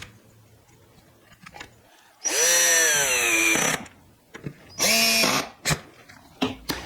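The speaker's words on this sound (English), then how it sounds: "And then we'll screw in the door hinges." A power drill drives screws into door hinges on a wooden rustic bathroom vanity. Two loud bursts have a motor pitch that rises and strains, separated by quieter workshop handling noise and short taps.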